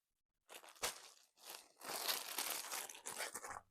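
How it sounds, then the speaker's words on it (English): Plastic packaging crinkles while an online shopping order is unboxed. After a short silence come close, rustling crackles in uneven bursts, then a longer stretch of sustained crinkling. "And I'm going to crinkle anyway"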